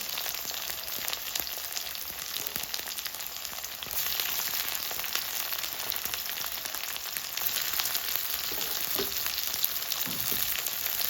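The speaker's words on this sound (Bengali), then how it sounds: "অল্প পেঁয়াজ দিচ্ছি, রসুন দিচ্ছি, হালকা একটু ফ্রাই করে নেব" Onion and garlic fry lightly in oil for an egg curry paste, a steady soft sizzle with faint crackles and an occasional stir, close up and constant.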